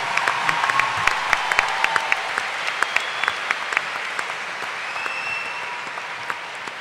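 An indoor audience applauds at a motorcycle-racing meeting, steady dense clapping throughout with no talking over it.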